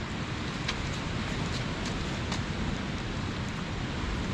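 Steady rain falling, a dense, even hiss with occasional louder drops, no voices present.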